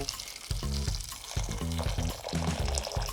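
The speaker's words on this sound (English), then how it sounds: "Pour in water." Water pours into a saucepan of cut potatoes in a home kitchen, in a few short bursts of close splashing and gurgling over about three seconds.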